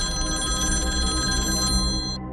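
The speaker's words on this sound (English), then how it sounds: "And then the phone rings." A telephone bell rings steadily and loudly for about two seconds over a low rumbling background, then the ringing cuts off near the end.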